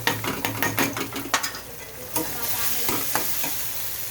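Ginger garlic paste frying in a pan gives a loud, dense sizzle, with quick spatula scrapes and taps that thin out as the hiss carries on steadily.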